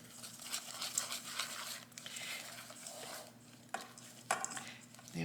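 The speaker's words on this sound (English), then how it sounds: "we're going to take the wet ingredients and we're going to combine them into the dry ingredients" Wet gingerbread biscotti ingredients are being slowly folded into the dry ingredients in a bowl, giving soft stirring, scraping and crinkling textures with a few sharper knocks over a faint steady hum.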